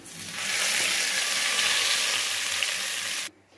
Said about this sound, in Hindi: तो ये देखें तड़का रेडी हो गया, ये मैं दाल में डाल दूंगी।